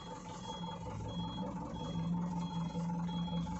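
A truck's reversing beeper sounds in a steady repeating pattern of short beeps over the low rumble of an idling engine.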